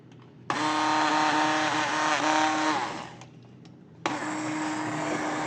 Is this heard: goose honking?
no